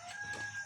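A brief chicken call rings out, a short clucking cry from a nearby bird, heard alone.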